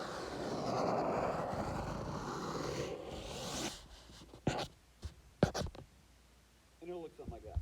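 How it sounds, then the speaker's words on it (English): A pen sketches a polynomial graph on paper. A steady broad rush gives way to quick scratchy strokes in short bursts, close to the microphone, with a faint voice near the end. "I'm just going to sketch that as best I can again."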